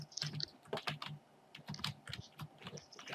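Someone types a message on a computer keyboard, with quick, close, clattering keystrokes in uneven bursts that run throughout at moderate loudness.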